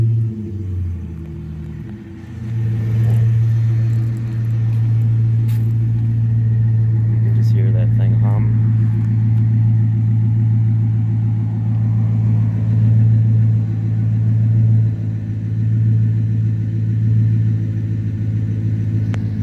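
A 2008 Chrysler 300C with 51,400 miles idles nearby, a steady low engine rumble that settles after a brief start and holds evenly at close range.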